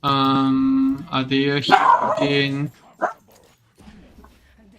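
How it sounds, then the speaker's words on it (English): A pet dog barks and whines indoors, giving several loud, drawn-out tonal barks close by in the first few seconds before trailing off into quieter whimpers, with a person talking over it. "That's my dog."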